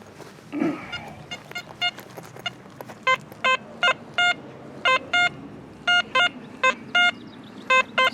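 An XP Deus metal detector gives a run of sharp, steady beeping signal tones over buried silver, repeating at close range above faint outdoor ground noise, with no talking.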